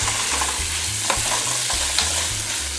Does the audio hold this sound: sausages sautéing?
yes